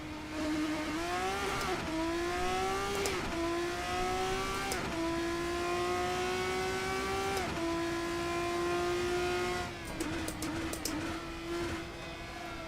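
An LMP3 race car in a racing video game at Brands Hatch Indy drones steadily at high revs, pitch climbing through each gear before sharp drops at the shifts, with a rougher stretch near the end.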